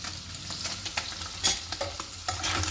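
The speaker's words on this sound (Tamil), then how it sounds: "இது ஃப்ரை ஆகுது, திருப்பி போட்டுக்கலாம்." Spices frying in butter in a pan for paneer butter masala, a dense close sizzle with scattered scrapes and clinks of a stirring utensil; no one speaks.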